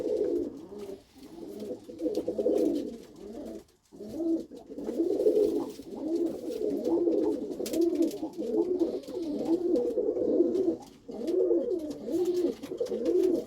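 Pigeons coo in a loft where young colour pigeons are kept, a steady run of soft rolling coos from several birds close by, with only a brief pause, and no voices heard.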